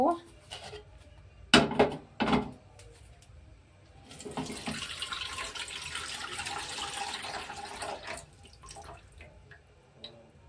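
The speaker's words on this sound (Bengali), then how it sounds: "আমি জলটাকে ঢেলে নেব।" Water from a green coconut is poured out into a container, giving a splashing, trickling stream for several seconds after a few sharp knocks, with soft voices heard earlier.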